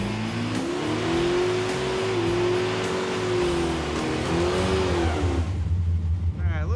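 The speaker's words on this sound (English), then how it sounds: "All right, a little bit better burnout." A barn-find Pontiac Firebird with a worn-out motor does a burnout, engine roaring continuously at high revs with tires spinning, loud and close, the engine note rising and falling throughout.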